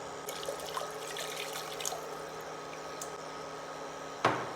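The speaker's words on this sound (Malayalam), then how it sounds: "കുറച്ചുകൂടി വെള്ളം ഒഴിക്കാം നമുക്ക്." Water being poured into a pan of mac and cheese in a home kitchen, a steady close trickling stream running without a break, ending in a brief louder splash or clink.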